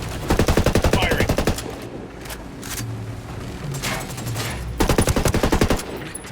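Bursts of automatic gunfire from a Ghost Recon firefight, two loud rapid volleys with a quieter stretch of scattered shots and background noise between them.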